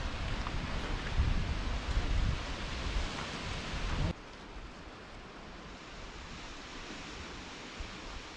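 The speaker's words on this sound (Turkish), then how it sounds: "Birdenbire böyle hava yağmura döndü." Steady hiss of rain falling on a garden, heavier at first then dropping abruptly to a softer, even patter.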